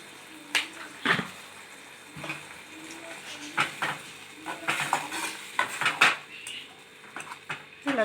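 Shev bhaji masala being sautéed and stirred in a pan, with scattered clinks and scrapes of a spatula against metal over a faint sizzle, close and uneven in rhythm.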